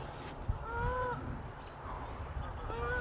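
A couple of goose honks ring out at a moderate distance, one near the start and another at the end, over a windy outdoor rumble.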